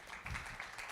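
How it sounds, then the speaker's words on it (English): Brief burst of audience applause at an AI symposium as a student speaker is welcomed, moderate steady clapping filling the short moment. "a huge round of applause for Deepanshu"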